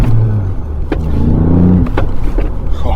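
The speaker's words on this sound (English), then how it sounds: "James is getting his bearings now as he test drives the Fiesta ST3." A Ford Fiesta ST3 on a test drive in the UK, heard from inside the cabin as a loud, steady low engine and road rumble with a few short knocks and clicks.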